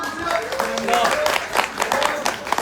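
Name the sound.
audience applause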